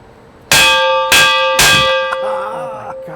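A 1925 U.S. lighthouse station bell is struck three times in steady succession, each loud metallic clang ringing with bright overtones, then a long humming decay with faint voices after.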